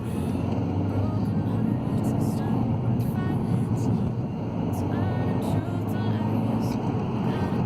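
A VW Scirocco turbo accelerates hard from second gear, giving a loud, steady in-cabin engine and road roar that holds for several seconds without easing.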